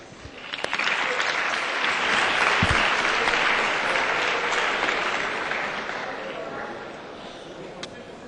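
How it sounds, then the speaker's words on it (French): Students at a Euroscola youth session applaud their teachers with a dense, sustained round of clapping that swells quickly, holds for several seconds, then gradually thins out. "Alors applaudissons les professeurs encore une fois s'il vous plaît"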